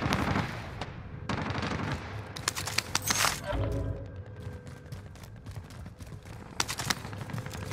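Video game gunfire crackles in rapid bursts and volleys, loud and close at the start, then sparser sharp shots over a dense, noisy background.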